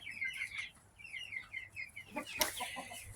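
Chickens, including young buff cockerels, cluck in a new pen, a run of soft close clucks and chirps followed by a sharper louder squawk near the end.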